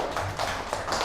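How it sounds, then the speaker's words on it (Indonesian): Classroom applause for a student discussion group after their presentation, a brief burst of scattered hand claps at moderate distance, fairly soft. "beri tepuk tangan untuk kelompok 1"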